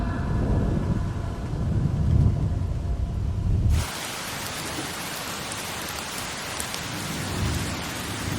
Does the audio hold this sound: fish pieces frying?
no